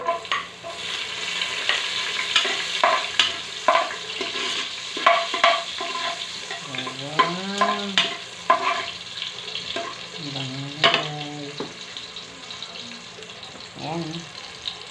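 Garlic frying in a pan in a Manila kitchen, a steady close sizzle with clinks and stirring scrapes, while a person talks intermittently over it.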